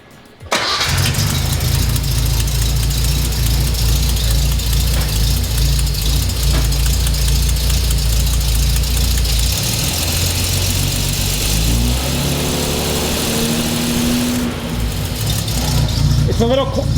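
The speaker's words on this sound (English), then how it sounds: "so let's fire her up." A Datsun 240Z engine cranks and fires, then settles into a loud, close, rumbling idle with slight rises in revs, a voice briefly heard near the end.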